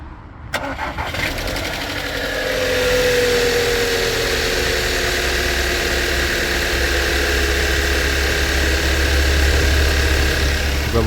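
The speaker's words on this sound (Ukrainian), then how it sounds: "Так, холодний запуск." A 2016 Volkswagen Tiguan engine cranks and cold starts, then settles into a loud, steady idle with a rough, rumbling hum close by.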